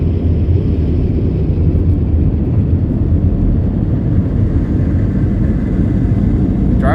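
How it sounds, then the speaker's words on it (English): The blow dryers of a PDQ Tandem ProTouch car wash at an Exxon station in Cedar Park, Texas roar steadily. The loud, even, low-heavy rush of air sounds close by, unbroken for several seconds with no talking. "Dryers are doing a pretty good job."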